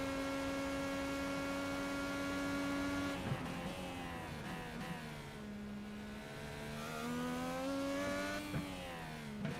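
A race car engine runs on the Long Beach Grand Prix street circuit, a loud steady drone with strong harmonics that dips and shifts pitch as the car brakes and accelerates through corners, close and continuous.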